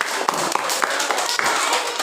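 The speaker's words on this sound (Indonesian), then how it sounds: "Berikan mereka tepuk tangan yang sangat meriah" Schoolchildren in a classroom clap for a group that has just presented, a quick run of close, sharp hand claps over light background chatter.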